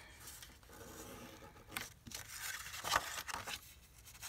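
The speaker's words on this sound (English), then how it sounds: "So I'm just going to go ahead and quickly fold these edges" Paper envelope edges fold and crease by hand in quick rustling, crinkling strokes with a few sharper swipes, close and fairly quiet, no talking.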